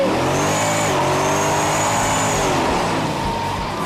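A Shelby Super Snake muscle car lapping a track at speed, its engine roaring loudly and continuously with rising and falling revs through gear changes and a sustained high tire squeal as it corners.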